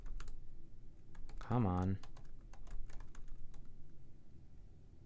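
A password being typed on a computer keyboard, with a string of quick, light key clicks up close. A voice briefly mutters partway through the typing.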